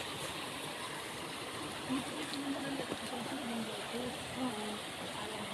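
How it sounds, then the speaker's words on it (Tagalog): River water flowing in a rural stretch of Montalban, Rizal, a faint continuous rushing wash of moving water heard from nearby, steady throughout with a few soft low tonal murmurs beneath it. "Narinig nyo guys, ilog, umaagos."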